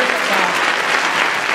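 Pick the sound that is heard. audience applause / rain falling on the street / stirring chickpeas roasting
audience applause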